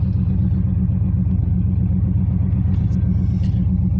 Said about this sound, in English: She runs real good.